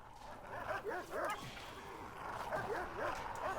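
Guard dogs in the Prison Architect video game bark and yip repeatedly in short, high bursts, moderately loud over a low background hum.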